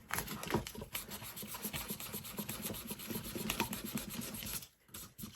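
Hand sanding with a sheet of sandpaper on a craft piece, a steady scratchy rubbing in repeated close strokes. The rasping runs continuously for about four and a half seconds, then stops briefly near the end.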